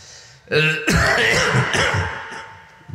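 During a Bengali Islamic sermon, a man clears his throat harshly and coughs a few times in quick succession, close and loud.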